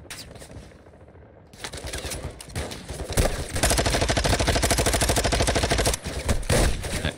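Rapid bursts of pistol and automatic gunfire in the Call of Duty DMZ video game, loud and dense, with a quieter opening before sustained shooting takes over.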